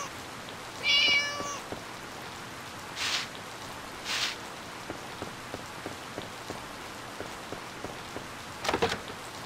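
Rain falling in the farming video game Harvest Moon: Light of Hope, a soft steady patter throughout, with a short meow-like cry near the start and a few brief louder splashes.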